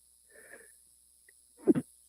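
A single short, sharp sneeze bursts out close by after a faint breath, followed by a quiet moment.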